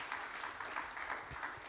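A church congregation clapping together, a dense, steady patter of many hands held at a distance and fairly faint, lasting under two seconds.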